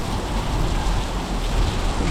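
Heavy rain falls in a village street during a storm, a dense continuous roar of downpour on surfaces, loud and close, with no voices.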